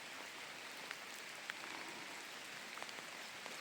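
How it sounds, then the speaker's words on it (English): Steady rain patters on a surface, an even hiss with occasional sharper drops, moderately faint and continuous, without voices. "Now it's raining."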